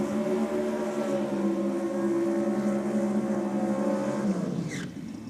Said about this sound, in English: Almost just playing with the throttle as he goes through past the start line there.